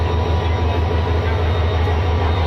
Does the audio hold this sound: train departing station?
yes